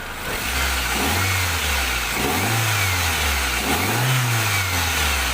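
A Toyota Soluna engine, running again after a faulty relay was replaced, is revved three times in succession, each rise in pitch swelling and falling back to a steady idle, loud and close with no voices.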